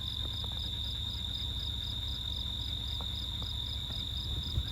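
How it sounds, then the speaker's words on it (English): Crickets chirp steadily outdoors in a remote wooded area with cherry trees and raspberry bushes, a continuous high, even trill running throughout with faint low rumble beneath and no talking. "listening to those crickets and stuff"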